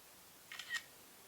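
Leica film rangefinder camera shutter firing in a quiet room: a soft, brief double click, faint and close, with nothing else around it.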